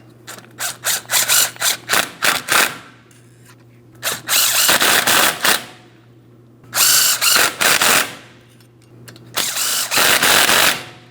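A power tool on a Ford Transit 250 front hub assembly rattles through bursts of rapid ratcheting, first several short pulses and then longer runs, loud and close, with pauses between them.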